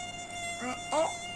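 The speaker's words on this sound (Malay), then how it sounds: "Nyamuk. Nyamuk, mama." A mosquito buzzes close by in two short whining bursts, the second louder and wavering in pitch, over a steady faint electrical hum.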